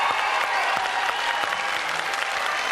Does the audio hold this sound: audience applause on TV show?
yes